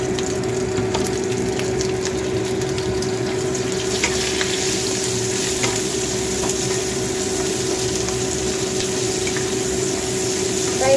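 Small onions fry in rendered pork fat for Filipino adobong sitaw with pumpkin, giving a constant close crackling hiss with scattered light pops and a faint steady hum underneath.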